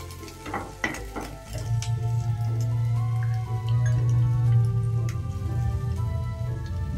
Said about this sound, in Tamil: பொடிசா கட் பண்ணி வச்ச மிளகாய், ஸ்டவ்வை சிம்மில் வச்சுக்கோங்க.